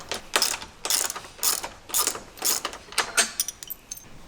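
A ratchet clicks in about eight quick bursts, close by, while a bolt and nut are backed off on a Jeep JL Wrangler or JT Gladiator during an accessory install. The strokes come in a steady rhythm with short pauses and no talking.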